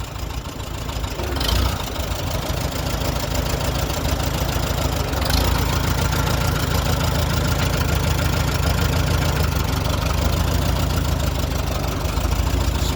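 Old tractor engine idling steadily after a hand-crank start on a sunny outing, a loud continuous low knocking chug with slight lumpy rhythm, close by and without talk.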